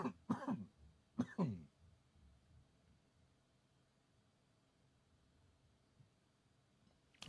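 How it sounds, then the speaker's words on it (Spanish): A person coughing a few times in quick succession, two clear close coughs at the start followed by quiet room tone and a faint click near the end. "eso son 3 toses sueltas"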